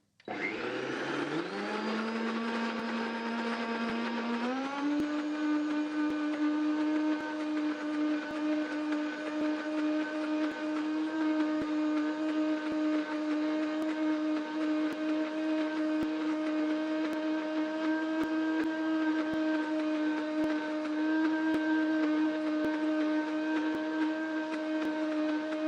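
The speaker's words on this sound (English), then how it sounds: "unless you have a really high-speed blender" A high-speed blender winds up over the first few seconds and then holds a steady, loud whirring whine with strong tonal hum, mixing lemon poppy cake batter without pause.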